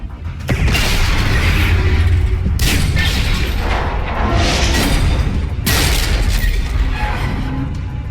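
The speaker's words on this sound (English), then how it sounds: "Ships open fire." Ship weapons fire and explode in the video game Mass Effect 3: heavy, loud booming blasts hit in three waves, each rolling into a dense, rumbling roar.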